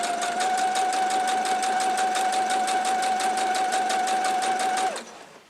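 A sewing machine strip sewing quilt pieces runs steadily in close, loud, rapid stitching for about five seconds, then stops abruptly and the sound fades out.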